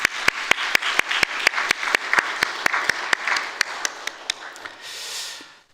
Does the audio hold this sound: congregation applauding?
yes